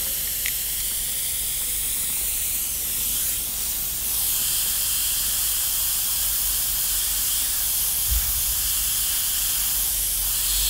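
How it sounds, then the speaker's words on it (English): An airbrush sprays paint onto a bat model in a steady, continuous hiss that stays close and fairly even, with a brief tap partway through. "Still having some dramas with this airbrush"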